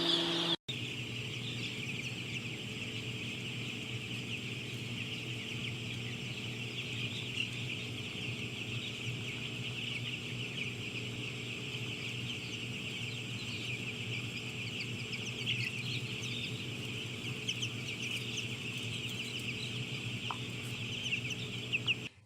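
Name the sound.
young chickens in a barn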